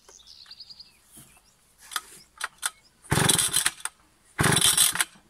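A 77 cc, 4.6 hp Husqvarna 280 chainsaw without a chain brake sputters with a few short revs, then roars loudly in two full-throttle bursts; a bird chirps briefly at the start.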